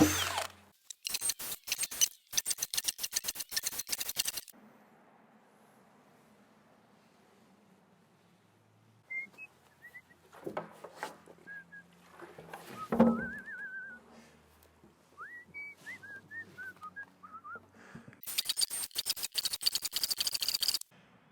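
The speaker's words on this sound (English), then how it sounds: "So I'm just going to drill a series of holes along here." Loud bursts of drilling into a 55-gallon plastic barrel start and stop at both ends, with a quiet stretch of faint scraping and squeaks in between.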